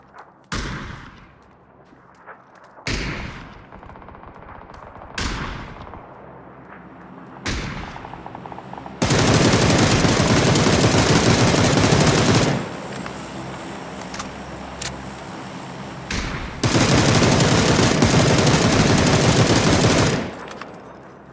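Bursts of automatic rifle fire in PUBG on PC, fired from a crouched position with a no-recoil script: several short volleys early on, then two long, loud, sustained strings of rapid shots.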